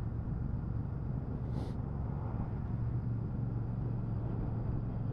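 A 2023 Royal Enfield Super Meteor 650 cruises in third gear on light throttle, giving a low, steady engine rumble under wind noise and no speech.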